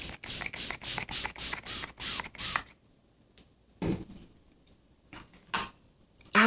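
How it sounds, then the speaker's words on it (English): Rimmel Stay Matte Fix & Go setting spray misted onto a face from a narrow nozzle with heavy droplets: a rapid series of about eight loud, short spray bursts, then a few isolated later puffs separated by quiet. "Let's go ahead and spray my face now."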